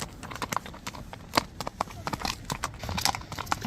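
A horse's hooves clip-clop on hard ground as it is led away at a livestock showing, a quick irregular string of sharp knocks close by, with a little faint talk in the background.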